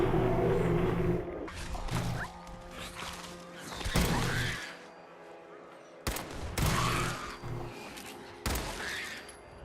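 Several loud gunshot blasts from a weapon in a post-apocalyptic wasteland video game, sharp cracks spaced a few seconds apart with echoing tails between, mixed with game noise.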